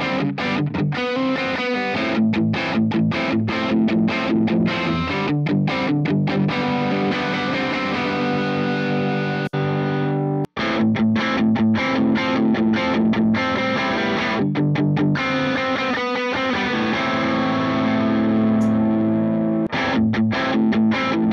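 Distorted electric guitar played through a Strymon Iridium amp and cab modeler with the treble knob turned down, a steady, loud run of chords and riffs with one brief cutoff midway, and no voices.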